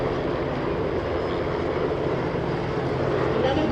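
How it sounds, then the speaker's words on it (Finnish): A helicopter arrives overhead at the Farnborough International Airshow 2015, its engine and rotor forming a loud, continuous broadband roar that holds steady throughout. "Siivet-lehti yläpuolella saapuu helikopteri."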